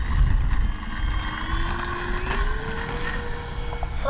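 Kavan Bristell B-23 RC model plane taking off with flaps set: a steady electric motor and propeller whine whose pitch rises as it climbs away, loud and close over broadband wind noise, no talk.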